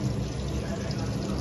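Water being poured at home, a steady, close, soft splashing stream that runs without a break for over a second.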